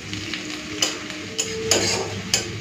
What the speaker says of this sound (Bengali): এদিকে সরষের তেলটা গরম করে শুকনো লঙ্কা, পেঁয়াজ আর রসুন ফোড়ন দিয়ে ভাজা করছি